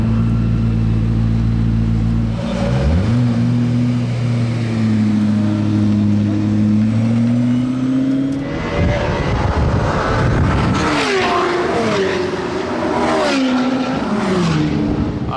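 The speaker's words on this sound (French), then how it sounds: "Vous avez entendu le start-up, comment il se fait quand elle est en race mode? Elle monte un peu plus dans les tours." A supercar's engine in race mode on the Paul Ricard circuit, close and loud, idles with a deep steady drone, then revs higher with rising and falling surges and raw, rough bursts, continuous throughout.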